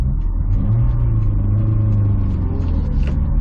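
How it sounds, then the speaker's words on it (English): A Honda S2000 engine with a misfire runs in a loud, close, continuous rumble that holds steady for the full few seconds, with no voices over it. "Yeah, there's the misfire."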